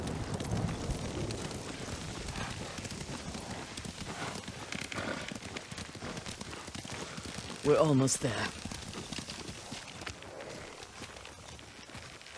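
Horses' hooves clip-clop steadily in the video game Ghost of Tsushima, a soft rhythmic patter amid wind, with a voice speaking briefly over it and a sharper clatter midway.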